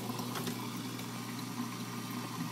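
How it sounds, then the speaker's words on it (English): A homemade sump pump runs with a steady motor hum while moving water back up through plumbing, giving a continuous gurgling, bubbling flow at close range throughout. "So I guess now we need to turn on the power, get some more water back up in there."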